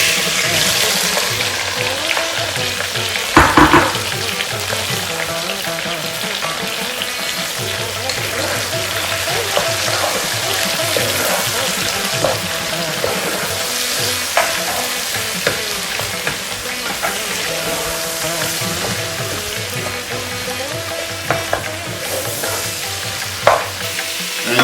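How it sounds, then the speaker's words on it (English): Four big chopped onions fry in oil in a pot for lamb biryani, a loud, continuous, crackling sizzle with occasional stirring clanks that holds steady throughout. "I'm going to add 4 chopped onions, 4 big size onions. I've chopped it and I'm going to add that onto the oil now."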